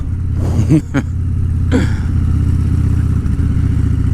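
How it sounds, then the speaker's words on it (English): A 2013 Harley-Davidson Dyna Fat Bob with a 103 engine idles close by with a deep, steady low rumble, and a few brief throttle blips and clatters rise above it in the first two seconds. "My 2013 Dyna Fat Bob 103."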